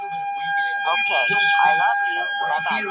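A tornado warning siren wails steadily in the distance, a sustained tone running beneath people talking close by.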